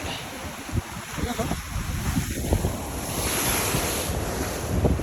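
Waves surge and crash against rocks on the coast at Little Siargao, Liloy, in a continuous rough roar, with heavy wind buffeting the microphone.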